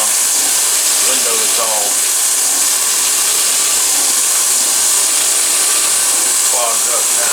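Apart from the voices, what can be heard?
milling machine boring holes for M4 screws in a bearing block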